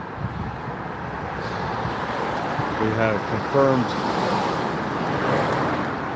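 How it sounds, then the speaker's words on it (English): Cars pass continuously on a nearby road outdoors, a steady rushing traffic roar with one louder swell midway, while someone speaks briefly over it. "Hopefully the cars ain't too distracting"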